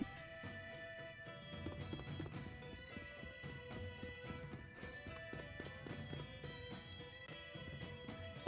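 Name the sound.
horse galloping in a video game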